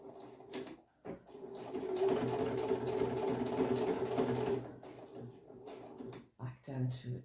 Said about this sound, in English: I'm actually going to backstitch just to make sure that ribbon stays